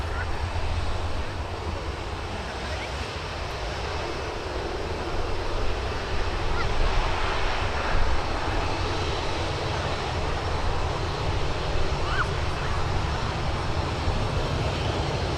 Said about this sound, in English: I do like it when they taxi their way down this way